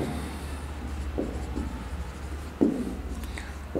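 Pen or marker writing by hand during a chemistry lesson on geometrical isomerism, soft scratchy strokes with a few sharper taps over a steady low room hum, no speech.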